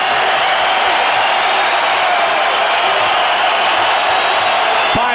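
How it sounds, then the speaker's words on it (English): Steady roar of a large arena crowd cheering at a UFC fight between Georges St-Pierre and Nick Diaz, a dense continuous wash of voices held at one level throughout with no distinct calls standing out. "And the crowd reacts."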